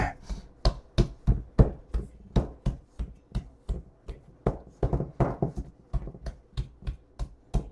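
Hands press and punch down bagel dough on a work surface, making a steady series of soft, close thumps, roughly two or three per second, with no talking.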